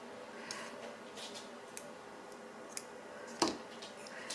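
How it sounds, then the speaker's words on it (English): Scissors snip through yarn during a crochet project, a single sharp close cut standing out after a few faint clicks and handling sounds in a quiet room. "I'm just going to cut my yarn off"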